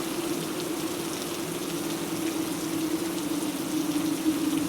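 Steady heavy rain pours through a cold night as an even, hissing wash of noise with a low rumble underneath, continuous and unbroken.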